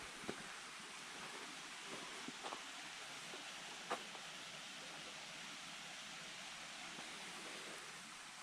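Fern Creek flowing along a gently graded hiking trail in New River Gorge National Park, a steady broadband rush of water heard from close by, continuous and even with no voices.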